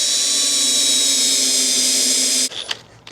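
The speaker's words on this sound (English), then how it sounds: "So we'll go little pilot hole." A power drill bores a small pilot hole in a Land Rover Defender wing, a loud steady high whine that cuts off abruptly, followed by a few faint clicks and handling noises.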